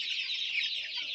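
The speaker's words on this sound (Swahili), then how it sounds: "Napigwa na kuku sasa leo." Chickens in a poultry-keeping setting give a dense, soft chorus of overlapping clucks and murmurs, steady and low in volume, with no talk.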